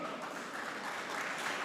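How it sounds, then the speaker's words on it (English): A tech event audience applauding to welcome two guests on stage, a dense, even patter of many hands clapping, fairly faint and distant. "Give a round of applause to welcome our two guests"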